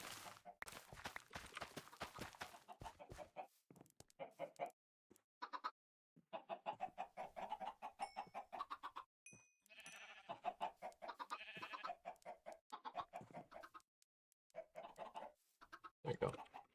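Minecraft chickens cluck and pigs grunt in quick, choppy bursts of game farm-animal sounds, dense and repeated with short silent gaps, fairly loud and up close with no talk over them.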